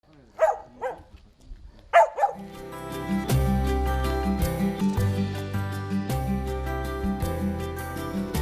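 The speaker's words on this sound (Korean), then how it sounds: "2018년 이 남북 정상회담 때 김정은 위원장이 선물한 풍산개들이죠" Pungsan dogs give a few sharp, close barks in the opening two seconds before music takes over and fills the rest.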